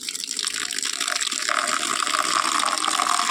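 Drumstick and taro leaves are rinsed under running water, with a steady close rush and splash from a tap that grows slightly louder and brighter partway through.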